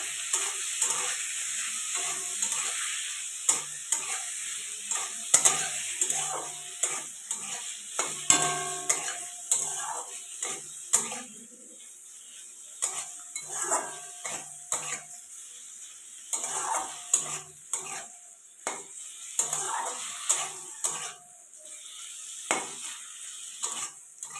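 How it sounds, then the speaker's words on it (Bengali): Prawns fry in a pan while being stirred, a soft sizzle under repeated scraping and clinking strokes of the spoon against the pan, rhythmic and close, with quieter stretches between bursts. "চিংড়ি মাছ বেশিক্ষণ ধরে ভাজা করবো না বেশিক্ষণ ভাজা করে চিংড়ি মাছ শক্ত হয়ে যাবে"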